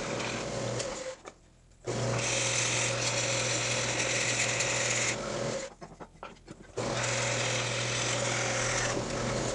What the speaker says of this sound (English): I'll slow down the drill speed for drilling these large holes